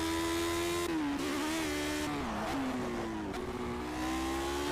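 A Lotus 78 racing car in a video game loses traction under acceleration at the Nürburgring, its engine revving loud and sustained while the pitch rises and dips as the wheels spin, with no talking over it.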